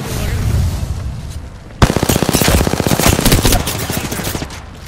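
Gunfire in Apex Legends: a quieter opening gives way to a sudden loud, rapid automatic burst of closely spaced shots that runs for a few seconds before easing off.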